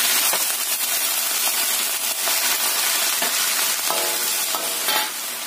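Mustard greens cook in a pan with water, giving a loud, continuous close sizzle and steamy hiss, broken by light stirring scrapes and clinks.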